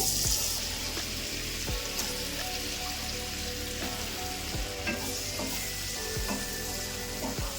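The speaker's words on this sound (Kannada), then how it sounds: "ಗೋಲ್ಡನ್ ಬ್ರೌನ್ ಬರೋವರೆಗೂ ಫ್ರೈ ಮಾಡ್ಕೋಬೇಕು ಪನ್ನೀರ್ನ." Cubes of paneer fry in hot oil with chilli powder and turmeric, a constant close sizzle with irregular scrapes and taps from a spatula turning the pieces, and no talking.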